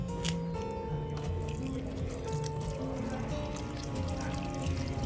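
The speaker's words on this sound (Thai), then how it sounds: "เดี๋ยวผมก็จะเอาน้ำใส่ไปนิดนึง" A little water is poured onto freshly sown vegetable seeds in soil, a close, quiet trickle with soft drips and splashes running steadily for several seconds.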